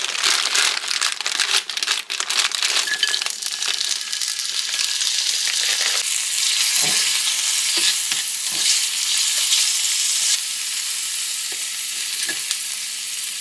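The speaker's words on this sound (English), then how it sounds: "As soon as my oil gets hot enough, I'm going to be adding some peppers and onions in, and we're going to get those cooked up." Peppers and onions frying in hot oil, a loud continuous sizzle with crackling and stirring scrapes at first, settling into a steadier hiss punctuated by occasional soft spatula knocks.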